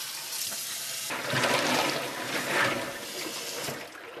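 Tap water runs into a kitchen sink holding ice water. The hiss swells and surges over a few seconds, close and moderately loud.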